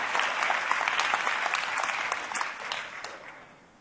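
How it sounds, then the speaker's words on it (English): A conference audience claps in a large room, a dense, even wash of applause that holds steady and then slowly thins and fades toward the end. "Real quick round of applause for the conference these guys put together."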